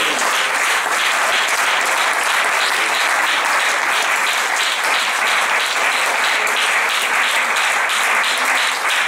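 A church congregation applauding during a sermon, loud, sustained clapping that fills the room steadily from start to finish with no talk over it.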